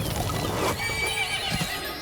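A unicorn in Wizard101 gives a loud, close, wavering neigh with hoof clip-clops around it, and no talk over it.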